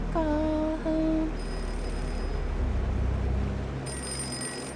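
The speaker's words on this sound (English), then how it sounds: "Wait, the phone is ringing. Oh, it's a payphone." A payphone rings in a horror game: a loud warbling electronic ring sounds twice in quick succession, then gives way to a steady low hum with a faint high whine.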